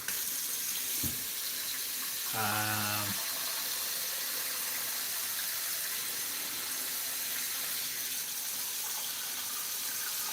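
Tap water pours into a kitchen sink to soak dishes after baking cookies, a steady rushing flow broken by a brief knock and a short rattling clatter near the start, with no talk.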